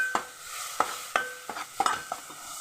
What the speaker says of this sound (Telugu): ముక్కలు వేస్తున్నానమ్మా